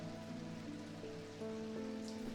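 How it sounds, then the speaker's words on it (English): Rain falls in the video game Strange Antiquities, a steady close patter over soft sustained musical tones, slightly louder in the second half. "It's rainy, so it could be spring."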